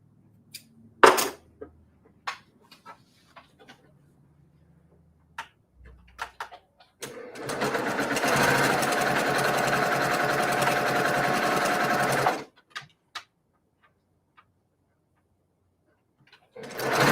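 A sewing machine stitching a quilt block, a steady whirring run of about five seconds in the middle, framed by scattered clicks, taps and handling noises before and after.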